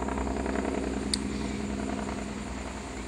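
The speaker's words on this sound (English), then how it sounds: "if anyone hears that, that's a big truck or something outside" A big truck rumbles outside, a low, steady engine drone heard muffled through walls with a soft indoor hum and a single faint click partway through.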